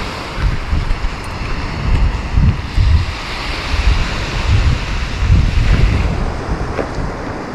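Ocean surf rolls in with low rumbling swells under heavy wind buffeting the microphone, loud and continuous along a beach in Lazarevskoye.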